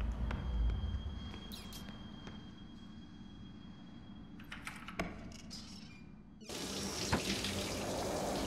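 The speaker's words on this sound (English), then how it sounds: "you hear running water coming from the bathroom. Someone is taking a shower." Steady running water from a shower in a bathroom fills the clip as a continuous broadband hiss, with a few faint clicks and a louder wash of water near the end.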